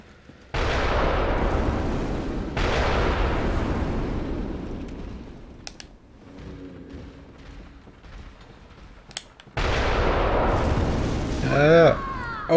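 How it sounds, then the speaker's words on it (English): Cannon fire strikes the player in the Chalice Dungeons of Bloodborne, heard as long, loud roaring blasts that start and stop abruptly, with quieter stretches between them and voices speaking near the end. "I got hit twice by one cannon"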